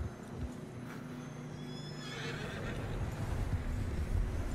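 In the Red Dead Redemption 2 video game, a horse whinnies loudly in a drawn-out neigh against a rough outdoor background, with faint hoof clatter and no speech.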